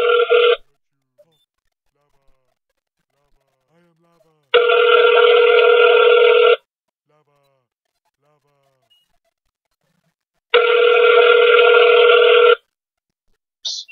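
Ringback tone of an outgoing telephone call, two long loud electronic rings separated by several seconds of silence, close and clear with no talk.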